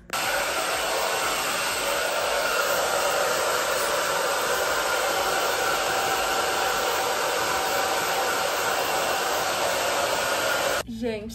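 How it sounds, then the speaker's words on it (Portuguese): A hair dryer blows in one loud, unbroken roar while drying long hair, close up and steady for the whole stretch before switching off at the end. "eu vou secar meu cabelo agora"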